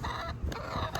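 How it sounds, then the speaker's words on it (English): Farm chickens clucking in a brief, close burst of throaty calls, with no talking. "There's some birds up there"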